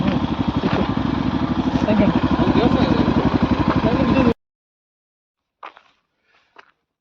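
A motorcycle engine runs steadily and close by on a road toward the Rani Jhari waterfall viewpoint, with a throbbing, even rhythm for about four seconds before cutting off abruptly, followed by a few faint knocks.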